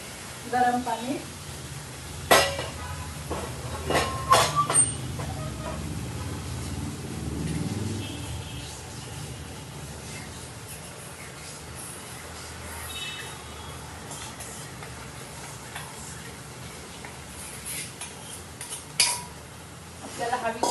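Hot water poured into a pan of sizzling date-tamarind chutney, followed by stirring with a utensil; sharp metal scrapes and clinks stand out over a low bubbling hiss, with no voices.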